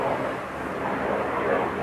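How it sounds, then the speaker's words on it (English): A jet aircraft flies overhead with a steady, loud, broad engine roar that swells slightly and holds throughout. "This is a jet."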